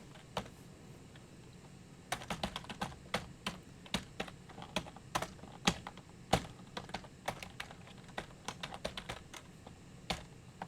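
Typing on a computer keyboard in a law office, a steady run of sharp clicking keystrokes in uneven bursts, close and fairly quiet, with no voices.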